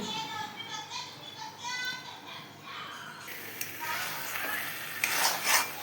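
Pulao fried with ghee and garam masala sizzles in a pan as it is stirred, the frying turning louder and hissier partway through. Voices, including a child's, talk over it.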